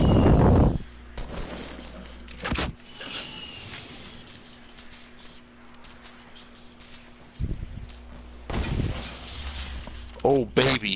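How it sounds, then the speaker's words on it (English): Sniper and other gunfire in a Fortnite Battle Royale match. Sharp cracks and bursts sound at the start and again in clusters later, with players' voices talking over the game sounds. "They're trying to snipe us."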